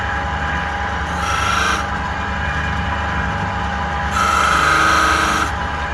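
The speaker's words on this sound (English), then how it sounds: "Right, so I shall sand the rest of these off" Sandpaper rubbing a hand-cut block of balsa wood, shaped as an isolation foot, in a steady continuous scraping with two louder, brighter bursts of strokes, close and alone.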